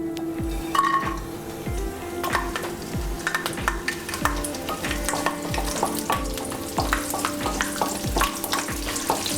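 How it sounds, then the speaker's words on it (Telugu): Garlic and tempering spices fry in two tablespoons of oil in a kadai over a medium flame. The sizzle is loud and constant, and regular stirring scrapes and light metallic clinks of the spoon against the pan cut through it. No one speaks. "మీడియం ఫ్లేమ్లో పెట్టుకుని ఫ్రై చేసుకోవాలి."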